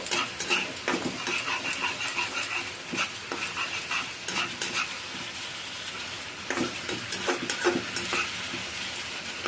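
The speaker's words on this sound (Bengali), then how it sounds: "এবার ঢাকাটা খুলে আমি নাড়াচাড়া করে নেব।" Masala dhokar being stirred in a pan after uncovering, with soft sizzling frying and irregular scraping stirs repeating throughout, moderately close and fairly quiet.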